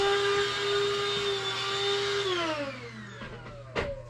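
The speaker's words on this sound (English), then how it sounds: "You may hear my vacuum cleaner." A vacuum cleaner running nearby, a steady whining motor hum that then winds down, its pitch sliding lower as it switches off, followed by a few faint thumps.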